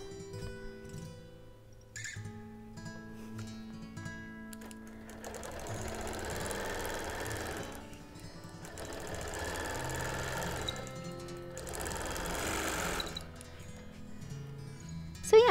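A longarm quilting machine stitches binding around a quilt in a studio, running in three sustained bursts of steady whirring separated by short pauses, fairly quiet.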